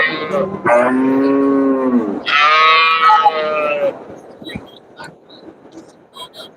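Dairy cows lowing at a Monday cattle market in Melapalayam, two long loud close moos one after the other, then a quieter mix of crowd murmur and market bustle.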